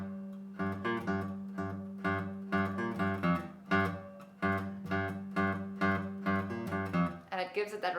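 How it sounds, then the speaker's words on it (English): Electric guitar riff played with the fretting fingers lifted slightly to mute the strings, giving a grungy, choppy tone; short rhythmic stabs repeat steadily and close up with no talking. "Now if I lift my fingers up very slightly,"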